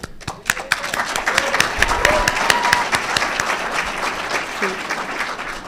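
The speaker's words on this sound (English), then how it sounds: "please applaud our 2022 White House Communications Agency Hall of Fame inductee, Command Sergeant Major Timothy Lehman" At a White House Communications Agency award ceremony, an audience applauds a Hall of Fame inductee with dense, sharp hand claps that build quickly and then continue steadily for several seconds.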